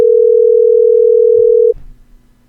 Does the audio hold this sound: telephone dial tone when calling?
yes